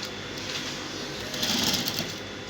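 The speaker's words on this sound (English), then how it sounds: "You are sewing on the lining and not on the fabric." A sewing machine topstitches the lining along a trouser inseam with a steady, continuous whir. The motor swells a little louder partway through, and no one speaks.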